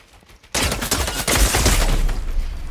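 Rapid bursts of gunfire in Fortnite Chapter 4 erupt suddenly after a quiet moment, loud and dense, continuing as a sustained volley with heavy low thuds throughout.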